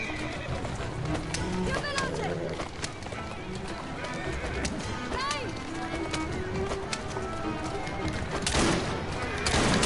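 Horse neighing and hoofbeats in a video game, with whinnies and clip-clopping over busy game sound, mixed with someone talking throughout.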